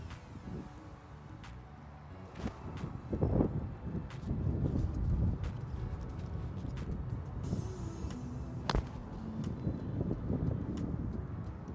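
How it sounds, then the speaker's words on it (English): Wind buffets the microphone outdoors on a golf course on a gusty day, a steady rushing rumble with occasional heavier gusts and faint thumps, continuous and close throughout. "Windy one today"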